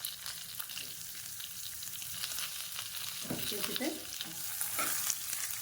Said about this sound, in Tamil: இதெல்லாம் சேர்த்து நான் கொஞ்சம் நல்லா வதக்கிக்கணும் லைட்டாக